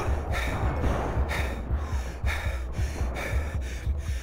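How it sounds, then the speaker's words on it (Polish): Rhythmic heavy panting from a character in the Western shooter game Call of Juarez: Bound in Blood, repeated breaths about every second over low game background rumble, fairly close. "Dyszy trochę jak Rey"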